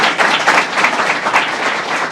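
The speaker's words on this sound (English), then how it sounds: "let's give a round of applause to our great principal, Dr. Helka" An audience gives a round of applause for a school principal at a legislation-signing event, dense, even clapping from many people filling the room.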